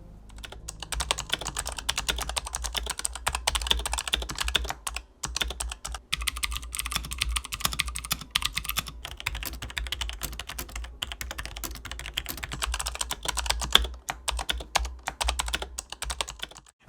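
Rapid, steady typing on a Razer Huntsman Elite optical mechanical keyboard with crisp clacks and a low hum underneath, continuous throughout with a brief pause midway.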